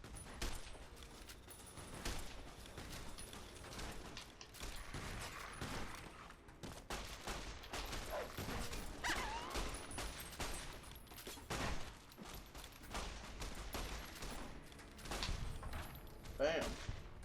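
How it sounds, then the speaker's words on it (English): Gunfire in the video game Fallout New Vegas, a sustained fusillade of shots and thuds that runs through the whole stretch at close, loud level, with someone talking over it. "Oh, they've opened fire."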